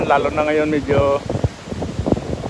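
Strong northeast monsoon wind at Boracay Newcoast buffets the microphone in rough bursts and gusts, close and loud, while someone speaks over it.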